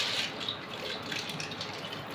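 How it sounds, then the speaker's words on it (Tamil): Water pours from a vessel into a pan of pasta on a gas stove, a steady moderate gush and splash lasting about two seconds with no voices. "இது முழுகிற அளவுக்கு தண்ணி நம்ம ஊற்றிக்கலாம்"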